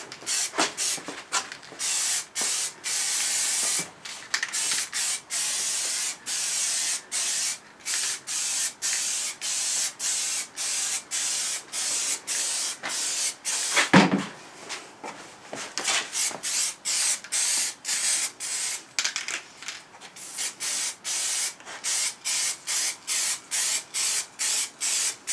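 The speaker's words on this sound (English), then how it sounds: "Spraying on the edge first, just to join those two together" Short hissing bursts of spray paint on a Triumph Bonneville sump guard, close by, repeated over and over with brief pauses between them.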